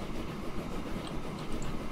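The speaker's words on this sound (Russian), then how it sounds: "Отправьте первый поезд от Шайнен до последней остановки" A train runs in the Transport Fever video game, a steady dense rumble of wheels on rail with a faint rattle, continuous and even throughout with no voices.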